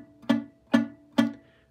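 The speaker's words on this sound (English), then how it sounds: "we're just gonna have him touch the string and get a nice thud tone" Three soft muted plucks on a lightly touched guitar string, each a short dull thud with a brief low tone, evenly spaced and close, with nothing else around them.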